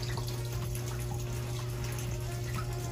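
Tap water runs steadily into a Sharp ES-FA650P automatic washing machine as it fills, a continuous close hiss and trickle over a low machine hum with no talking.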